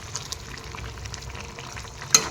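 Fish curry with green peas and cauliflower simmers in a pan while being stirred, giving a soft, steady bubbling and scraping texture with a sharp clink near the end; no one speaks.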